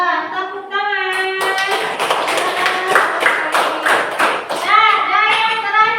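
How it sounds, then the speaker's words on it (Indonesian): Schoolchildren in an elementary classroom clap together in a short burst of applause, crisp hand claps sandwiched between voices speaking before and after. "Tepuk tangan."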